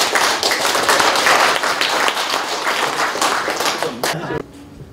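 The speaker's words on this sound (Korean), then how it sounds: "큰 박수로 모십니다." Audience applause welcoming the author at a Korean book launch event, a dense wash of many hands clapping continuously for over four seconds before cutting off abruptly, leaving quiet room tone.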